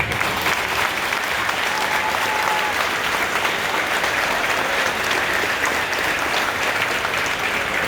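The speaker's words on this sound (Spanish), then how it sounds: "le quiero pedir a ustedes un aplauso para los congresistas de Pachaquería de este momento" Audience at a patriotic anniversary celebration applauding congressmen, a loud, sustained roar of many hands clapping continuously, dense and even from start to finish.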